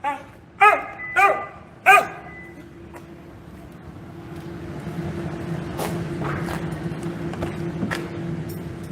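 Dogs inside an animal hospital bark three times in loud, close, sharp bursts, followed by quieter, more distant barking and yips under a low background rumble.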